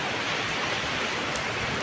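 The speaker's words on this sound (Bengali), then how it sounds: "জোরে বৃষ্টি আসছে, তো বহুত দিন পরে বৃষ্টি আসলো এত জোরে" Heavy morning rain pours down steadily in a rural Bangladeshi setting during the year's first storm, forming a dense, even hiss with no breaks and no voices.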